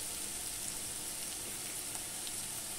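Onion and peanuts sautéing in oil in a pan, giving a steady, even sizzle that stays close and constant throughout without any talking.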